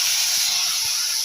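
Cut raw mango pieces sizzling in hot oil with mustard seeds, a steady broad frying hiss with small crackles, close and continuous with no voices.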